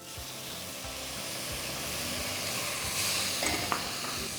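Chopped tomatoes go into a pan of browned onions and cumin seeds for Parsi salli marghi, raising a steady close sizzle and hiss with light stirring and a sharper spatter near the end.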